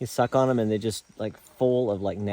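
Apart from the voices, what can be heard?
None of the usual background noises is heard.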